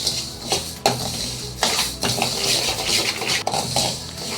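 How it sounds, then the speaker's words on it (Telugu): Moong dal dry-roasting in a heated pan, stirred so the lentils rattle and scrape against the metal in repeated clinks and brief rustling bursts, close and fairly loud, with no talk. "ప్యాన్ వేడి చేసుకుని పెసరపప్పు వేసుకుని వేయించుకోవాలి."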